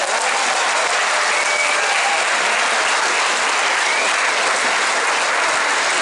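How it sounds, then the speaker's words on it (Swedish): Dense, steady applause from an outdoor festival audience at a quayside stage, welcoming a dansband from Älvdalen; loud, continuous clapping filling the whole stretch with a light crowd murmur underneath. "En stor applåd!"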